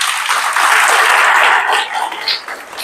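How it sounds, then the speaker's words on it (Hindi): An audience at a spiritual yoga talk in Madhuban claps loudly, a dense close burst of applause that fades toward the end. "देखो इनके लिए ताली बजाओ।"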